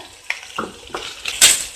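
Close-up kitchen noise of chopped onions and green chilies dropping into a pan and being stirred, a few separate clatters and scrapes with a soft sizzle beneath.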